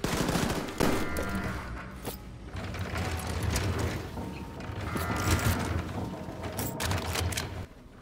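Rapid gunfire and bursts of shooting hit a fire extinguisher in Wolfenstein II: The New Colossus, with crashing impacts and mechanical clatter layered over a dense, loud game mix, and no talking.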